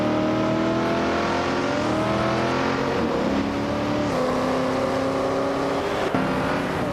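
Several racing cars, a 1977 Aston Martin V8 Vantage in front, launch hard off the start line, engines roaring and revving upward together in a loud, continuous wall of sound with brief gear-change dips.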